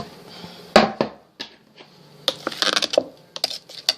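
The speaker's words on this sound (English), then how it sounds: "With this spoon, we're going to mix this around a little bit." Metal spoon stirring a low-calorie turkey dinner in a pot, a few sharp clanks against the side followed by a quicker run of scraping taps and clicks, close and otherwise quiet.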